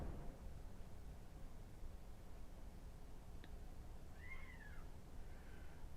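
An older male cat gives a single faint, distant meow, preceded by a brief tick, over steady outdoor background hiss.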